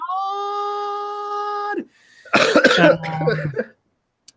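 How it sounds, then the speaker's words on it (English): A sustained harmonic whine gives way, after a brief pause, to a burst of harsh, noisy coughing, close and fairly loud, then silence. "how's your cough"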